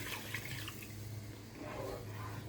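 Two cups of milk poured into a béchamel roux of fat and toasted flour, a soft, steady liquid splash and trickle close by.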